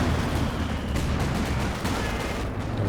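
A machine gun in the Company of Heroes 2 war game rattles in a fast, continuous stream of shots, loud and close, with rumbling battle noise underneath.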